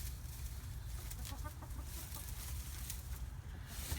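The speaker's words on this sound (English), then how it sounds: "Here comes Red Hen." A hen clucks softly in a backyard chicken coop, giving short, scattered clucks over a constant low rumble of wind or background noise.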